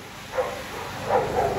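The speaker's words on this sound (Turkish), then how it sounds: "Köpekler saldırıyor Ergin abi." Two muffled dog barks, one after the other, sounding some distance away over a steady background hiss.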